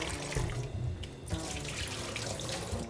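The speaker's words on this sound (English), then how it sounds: "So I'm just gonna drain these off real quick." Cooked shrimp drained in a kitchen sink, with water rushing and splashing steadily into the basin for a few seconds, close and fairly loud with no talking.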